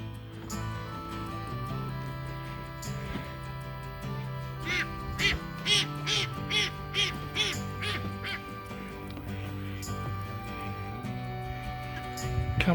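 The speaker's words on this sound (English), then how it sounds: "ducks and that get well fed here." Several ducks near a campsite quack in repeated bursts, loudest in a quick run through the middle, set over a steady low rumble of background noise.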